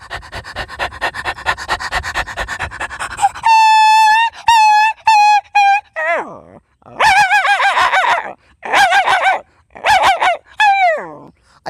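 A man imitates dogs with his voice, first a rapid run of yapping puppy barks, then sharper single barks and whining, growling yelps like several dogs squabbling, loud and close.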